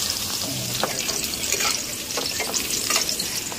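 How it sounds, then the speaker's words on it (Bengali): Paneer pieces fry in a pan with a steady, close sizzle and crackle, broken by a few soft stirring scrapes throughout; no one speaks. "হ্যাঁ, পনির ভাজা হয়ে গেছে।"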